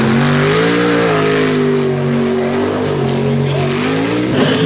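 A mud bog truck with a big, nasty motor makes its pass at a mud hop event, the engine roaring loud and steady with a droning pitch that sags slightly and then climbs, unbroken for several seconds.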